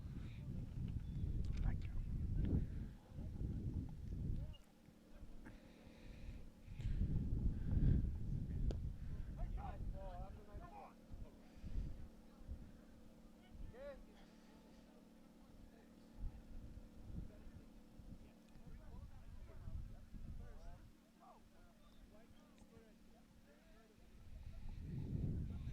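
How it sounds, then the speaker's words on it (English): Wind buffets an outdoor field during a U16 boys' National League soccer match between BRYC 01 Elite and EC Real Salinas Galaxy, steady low rumbling gusts rising and falling across the whole stretch, with a commentator talking over it. "The wind picking up here, and so there's a bit more chill in the air right now."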